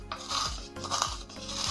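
Coarse cumin seeds ground by hand with a mortar and pestle in a home kitchen, heard as three repeated gritty rasping strokes, close and moderately loud with no talking.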